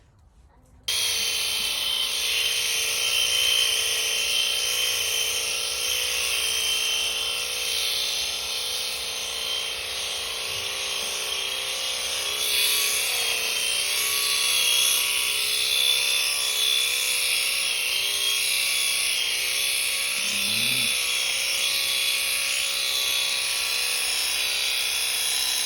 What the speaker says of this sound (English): we're just going to use the electric clippers around her back end in a moment